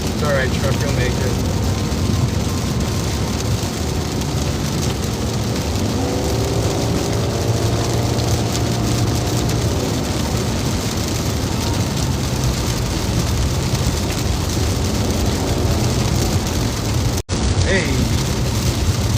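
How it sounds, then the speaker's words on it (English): Heavy rain from a severe weather outbreak pelts a car during a storm chase, a dense steady roar of drops hitting the body and roof throughout, with engine rumble underneath and a brief shout near the end. "You hear them smacking the car."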